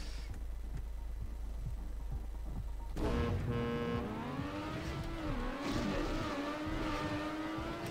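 A race car's engine in Trackmania Nation Forever accelerates hard from a low idle, its loud, steady whine climbing and shifting pitch as the throttle stays held down, with no talk over it.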